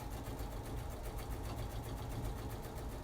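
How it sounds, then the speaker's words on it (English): A sewing machine back stitches a fabric face mask, a fast steady needle chatter with a motor drone, close and continuous, no talk. "I'm going to back stitch"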